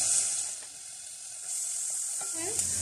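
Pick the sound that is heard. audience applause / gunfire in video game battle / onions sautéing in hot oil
onions sautéing in hot oil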